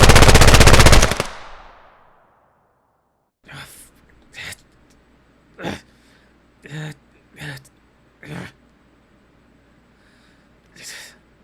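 Video game gunfire: a loud sustained burst of automatic fire that cuts off abruptly and decays, followed by a string of separate single sharp shots spaced irregularly over several seconds.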